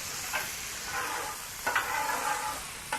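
Cooked ground beef sizzles on a gas griddle as it is scraped and slid along the hot steel, a constant frying hiss broken by a few sharp scraping strokes of the spatula, close and without talk.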